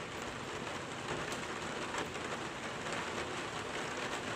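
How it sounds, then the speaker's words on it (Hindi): Steady rain falls in a constant, even hiss, soft and continuous, with no voices or other sounds standing out. "बारिश तेज़ नहीं हो रही है लेकिन लगातार हो रही है ना"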